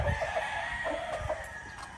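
Rooster, a cross with Yellow Legged Dutch, crowing and clucking faintly in a farmyard, with short repeated calls over soft background noise.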